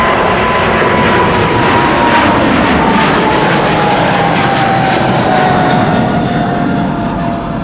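A KLM airliner on a flight to Curaçao takes off from Amsterdam Schiphol, its loud, steady jet engine roar filling the whole stretch with a faint whining tone sliding slowly downward.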